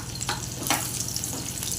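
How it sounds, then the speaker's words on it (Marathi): Bay leaf and cinnamon sautéing in hot oil in a pan make a short burst of close frying sizzle, with a couple of quick stirring scrapes and no talk. "हेही चांगलं लाल होईपर्यंत परतूया."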